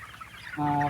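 A chicken in a fan-cooled broiler poultry shed gives a short, close cluck that rises abruptly into a harmonic call at the end, over a soft background hum.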